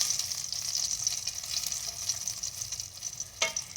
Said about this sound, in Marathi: आता मिरच्या पांढऱ्या होईपर्यंत जरा परतून घ्यायचं आहे.